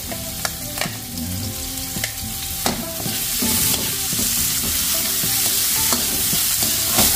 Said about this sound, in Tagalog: Igisa na po natin ang ating bawang at saka luya.